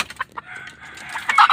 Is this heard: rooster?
yes